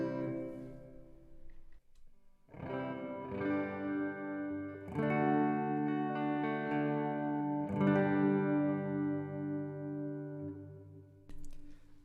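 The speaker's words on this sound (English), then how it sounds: "So I'm going to turn on reverb." Electric guitar chords ring out one after another, each sustained and trailing off with a spacious, echoing reverb tail.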